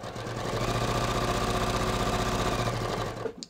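A sewing machine stitching a pants seam down to the gusset, running in a fast steady mechanical whir with a rapid rhythmic needle chatter, close and loud, slowing and stopping at the end.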